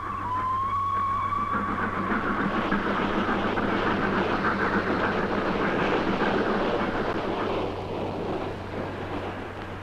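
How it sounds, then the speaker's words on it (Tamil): A steady, loud rumble of a train running on rails, with a brief high squeal at the start and continuous clattering that eases slightly near the end. "ஒன்பது மணிக்கு ட்ரெயின் வரும்னு சொன்னாங்க"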